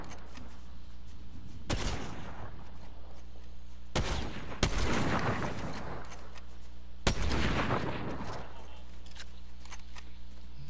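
Gunfire in a Fortnite trios match, with three loud bursts of shots over steady in-game background noise.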